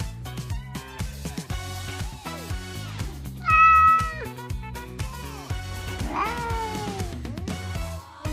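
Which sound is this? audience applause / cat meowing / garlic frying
cat meowing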